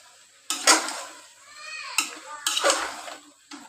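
Beef with green jackfruit and potato being sautéed in a pot, heard as a few separate bursts of scraping and clattering from a spoon against the pot, close, with quiet gaps between strokes.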